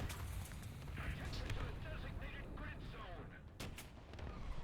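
Gunfire in a tank video game, several sharp shots and booms scattered over distant battle noise, with a player talking throughout.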